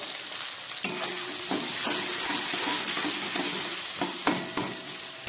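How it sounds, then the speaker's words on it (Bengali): Tomato, onion and spices fry in a pan for Bengali-style chicken soup, a steady close sizzle broken by occasional scraping knocks of a stirring utensil. "সব দিয়ে খুব ভালো করে আমি একটু ভেজে নিচ্ছি"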